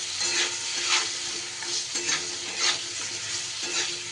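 Bitter gourd slices dusted with turmeric being stirred as they fry in a pan, a steady close sizzle broken by a few scraping strokes of the spatula, with no talking.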